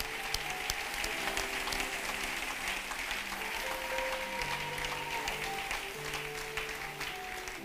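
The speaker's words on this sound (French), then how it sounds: "Est-ce qu'on peut donner une bonne offrande d'acclamation à l'Éternel," Congregation in a church service applauding together, a steady dense wash of clapping throughout with a faint murmur of voices and some sustained musical tones underneath.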